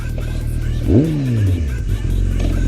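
A used BMW motorcycle with about 34,000 miles revs loudly up close. The engine note climbs sharply in one surge, then falls back to a steady idle-like drone.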